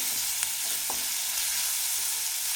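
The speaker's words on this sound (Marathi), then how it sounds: "कंटिन्यू हलवत एक मिनिटभर आपण कांदा परतून घेऊ" Onion sautéed to a light pink in a pan for Kolhapuri misal, a steady close hiss of frying with a couple of faint spatula scrapes, no talking.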